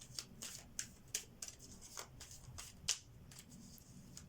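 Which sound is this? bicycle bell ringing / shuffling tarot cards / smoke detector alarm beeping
shuffling tarot cards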